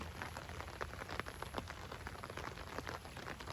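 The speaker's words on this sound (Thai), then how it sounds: "ถ้าฝนตกปล่อยๆอย่างนี้ต้นไม้เขาจะชอบมาก ๆ เลยนะคะ" Light drizzling rain falls steadily over a garden with a pond, herb plants and kratom trees, a soft continuous patter with scattered close drops, no voices.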